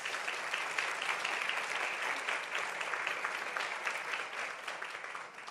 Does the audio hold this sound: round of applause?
yes